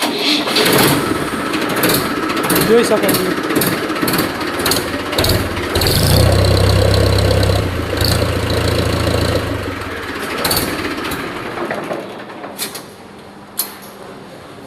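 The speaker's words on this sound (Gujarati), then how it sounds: "સેલ મારીને તમને બતાવી દઉં ટ્રેક્ટરનો અવાજ" A second-hand farm tractor at a showroom cranks and starts, then runs at a rough, loud idle nearby with rattles and clunks before fading, while someone speaks briefly.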